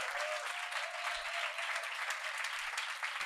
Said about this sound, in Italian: Un applauso a Bartolo.